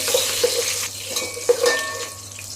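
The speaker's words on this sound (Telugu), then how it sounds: "తర్వాత పచ్చిమిర్చి వేసుకోవాలి వేసుకొని కలుపుకోవాలి" A spoon stirs green chillies through biryani masala in a pan for chicken biryani, giving a few soft scrapes and light sizzling with occasional metallic taps, close and moderately quiet, no talking.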